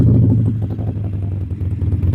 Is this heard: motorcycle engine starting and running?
yes